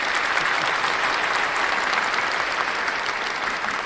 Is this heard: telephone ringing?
no